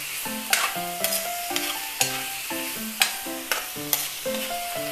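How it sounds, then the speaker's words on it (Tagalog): Pork, young corn and mushroom suey gets stirred in a pan, a utensil clanking and scraping in uneven strokes over a soft background sizzle, close and without voices. "Halu-haluin natin siya,"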